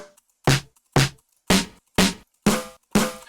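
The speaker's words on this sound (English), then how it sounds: "how to improve some lackluster snare samples" A thin, lackluster snare drum sample triggered in Ableton Live, struck six times at an even, moderate pace, each hit a short dry crack with a quick decay and silence between.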